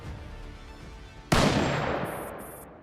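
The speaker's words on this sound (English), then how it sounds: "With a single gunshot, everything finally quiets down." A single gunshot in the game Girls Frontline: one sudden loud blast after a quieter stretch, its echo decaying slowly over the following second.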